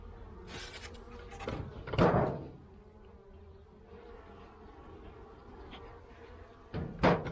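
Honeybees hum quietly inside a recently split hive as it is opened for a queen check. A faint, steady low drone runs throughout, broken by a few close wooden knocks and handling clunks near the start and end.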